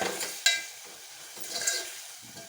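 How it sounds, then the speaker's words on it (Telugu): Chopped tomatoes drop into a hot pan of drumstick curry, a short burst of sizzling with a brief clatter as they land, then the frying fades down quickly. "నేను టమాటాలు కట్ చేసి వేస్తున్నాను"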